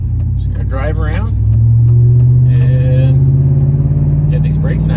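A Chevrolet Silverado pickup with a big brake upgrade driving around, its engine a loud steady low rumble that rises slightly as it pulls away, under continuous talk from inside the cab.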